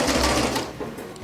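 Sewing machine stitching a lapped zipper in a short close burst, a dense rapid mechanical whir that trails off slightly at the end.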